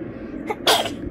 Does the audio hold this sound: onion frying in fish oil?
no